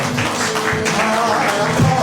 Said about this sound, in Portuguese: Você pode aplaudir a Jesus aí.